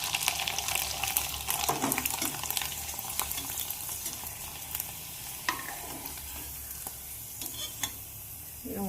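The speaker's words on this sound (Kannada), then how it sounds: "ಈಗ ಫ್ರೈ ಮಾಡಿ ತೋರಿಸ್ತೇನೆ ನಾನು ನಿಮಗೆ" Disco papdi fry in hot oil with a steady close sizzle and bubbling, while occasional stirring clinks and scrapes come through on top.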